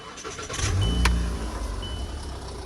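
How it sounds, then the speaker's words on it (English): A Volkswagen Jetta engine idles steadily at close range, a low rumbling hum with some rattly noise over it and no voices. "Got the car back. This is how she's running."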